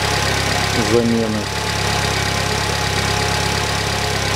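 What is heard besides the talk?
Chevrolet Cruze F18D4 engine idling after timing belt replacement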